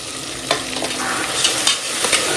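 Ginger garlic paste sautéing in a pan: a steady, fairly loud sizzle with repeated scraping strokes of a stirring spoon, heard up close and with no one speaking.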